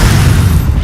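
A loud, dense rumbling blast from the Incendio fire spell in Hogwarts Legacy, a single short burst heard alone.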